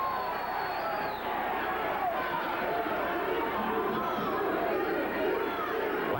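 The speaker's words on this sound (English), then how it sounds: "You can hear the hoots and the cries of the crowd" A pro wrestling arena crowd hoots and cries out in a continuous dense roar of chatter and shouts, with no single voice standing out.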